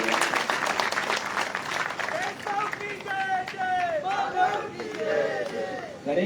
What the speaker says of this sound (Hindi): हाँ ये भाई एक बार इस बालक के लिए जोरदार ताली बजा दीजिए।